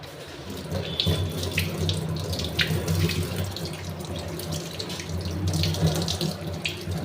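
Tap water runs continuously into a sink while fish are rinsed, a steady close splash with brief sharper spatters as hands move through the stream.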